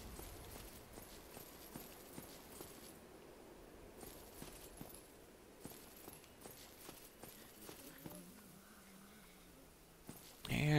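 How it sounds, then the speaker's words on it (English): Soft, quick footfalls patter irregularly in Dark Souls: Remastered, faint and whispery against a quiet ambient background, ending with a louder swell. "Here's all the whispery footsteps I've been hearing."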